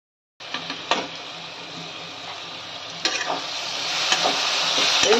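Spices, red chili powder, black pepper and sour yogurt fry in a pan for mutton ghugni, a loud steady sizzle that swells toward the end, broken by a few sharp stirring clanks.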